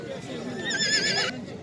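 A female foal neighs at a busy horse market, a short wavering whinny rising above the crowd murmur and nearby voices.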